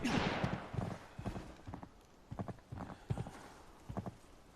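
Footsteps in the shooter game Arena Breakout: a quick run of rhythmic, thudding steps at moderate distance, fairly quiet and uneven in spacing, with no talking over them.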